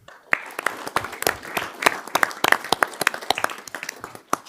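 Applause from the audience at a Village of Arlington Heights board of trustees meeting, dense overlapping hand claps sustained throughout at a steady level, with no talk over it.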